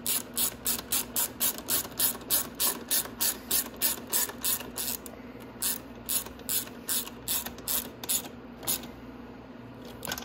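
A hand ratchet with an extension tightens the carburetor bolts on a Venom 125cc x20 motorcycle, giving a steady run of crisp, close clicking strokes in a regular rhythm for about ten seconds, with no talking.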